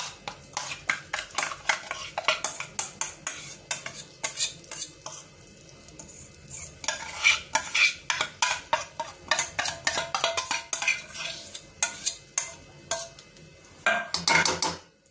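Spatula scrapes and knocks repeatedly against a pan as ghee-soaked fenugreek is stirred and roasted with flour, steady close scraping strokes with a faint sizzle underneath and no voices.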